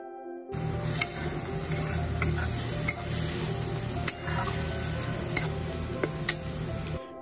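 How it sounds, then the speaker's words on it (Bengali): Onion paste frying in oil with whole spices, a steady close sizzle punctuated by several sharp clinks of a spoon stirring against the pan. "যে পেঁয়াজ বাটাটা ছিল না ওটাও এখন দিয়ে দেবো, দিয়ে ওটা দিয়ে একটুখানি কষতে হবে।"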